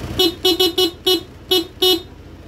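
Short, loud beeps from the stock horn of a Honda PCX 160 motorcycle, seven quick toots in an uneven rhythm, close to the listener.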